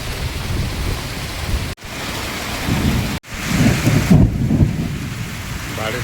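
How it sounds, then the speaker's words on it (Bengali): Heavy rain falls with a light gusty storm wind, a loud continuous wash with a swell of low rumbling thunder toward the end. "বৃষ্টির সঙ্গে সঙ্গে কিন্তু একটা হালকা ঝোড়ো হাওয়া বইছে।"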